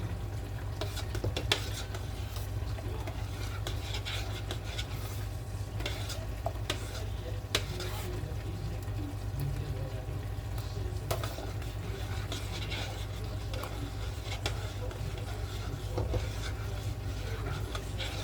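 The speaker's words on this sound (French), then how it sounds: "Toujours bien mélanger, comme ça." A spoon stirs food in a saucepan with soft scraping and clinks over a low, steady sizzle, continuing at an even pace.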